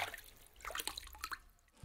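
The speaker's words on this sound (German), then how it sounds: "Ich ziehe mir jetzt so einen Handschuh an und damit gehe ich jetzt ins Wasser." A gloved hand dipping into water in a science-holiday experiment gives faint scattered drips and small splashes, quiet and irregular, with a soft low thud near the end.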